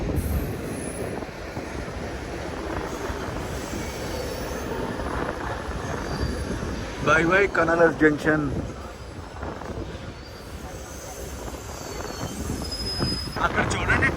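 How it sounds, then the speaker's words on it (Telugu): The Saurashtra Mail rolls out of Kanalas Junction in Gujarat with a loud, continuous rumble of wheels on rail and a burst of squealing wheels midway, heard from on board while someone speaks over it. "కనాలాస్ జంక్షన్ నుంచి మన ట్రైన్ అయితే బయలుదేరిపోయింది."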